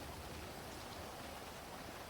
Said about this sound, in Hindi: बारिश भी शुरू हो चुकी है